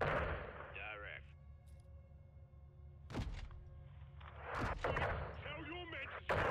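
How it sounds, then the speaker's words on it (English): Gunfire in Call of Duty: Modern Warfare 2 during a courtyard assault: several heavy, punchy shots and thuds crack out irregularly amid radio chatter and distorted voices, some blasts close and loud, others more muffled. "Tell your men to stop firing on us."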